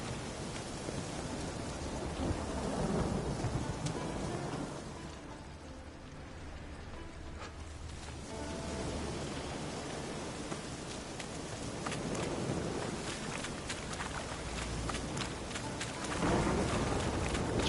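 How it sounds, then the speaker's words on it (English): Steady heavy rain pours throughout with deep rumbling thunder rolling underneath, swelling and easing in waves, in the video game The Witcher III. "It's raining so much it's coming down the trail."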